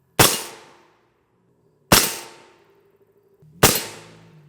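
Three M855A1 rifle rounds from a 10.5-inch barrel striking a Chinese PAP GA6 armor plate, each a sharp loud crack with a ringing decay, spaced about two seconds apart.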